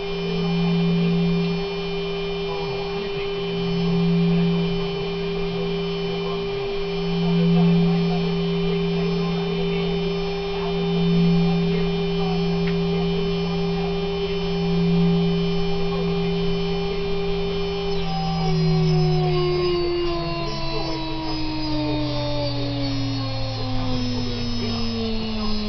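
A Chinese CNC spindle of 2.2 or 3 kW runs up to 24,000 RPM, giving a steady high-pitched electric whine with a pulsing tonal hum that rises in pitch toward the end, close and alone.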